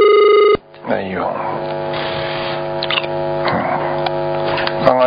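A telephone rings with a steady electronic bell tone that cuts off abruptly, followed by a continuous hum and tonal line noise as the call connects, with a voice speaking over it.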